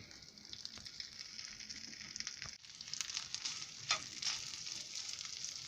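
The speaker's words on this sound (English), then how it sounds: "Mix it up a little bit with the butter and let it fry." Sliced sausage crackles and sizzles in melted butter in a pan, a steady hiss punctuated by occasional stirring scrapes and pops, moderately quiet and close with no voices.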